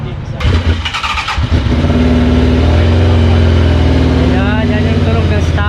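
Motorcycle with a stock exhaust starts and settles into a steady, loud idle with a low rumble and a slight rise in revs, close by, after a short stretch of talking.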